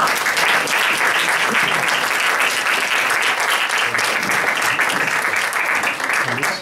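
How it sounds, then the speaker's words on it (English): A dense, steady round of applause fills a college debate hall between Fordham College Republicans and Democrats, loud and sustained throughout with no break, then thinning only slightly at the very end. "let's give a round of applause"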